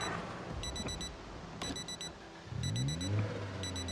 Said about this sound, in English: Now the watch is beeping.